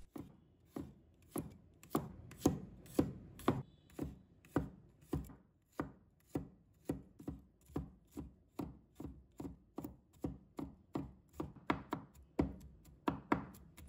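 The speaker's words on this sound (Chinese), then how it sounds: "把它切成蒜末" A knife chops garlic into fine mince on a board for stir-fried sweet potato leaves, giving a crisp, regular series of about thirty close, sharp thuds at a steady rhythm.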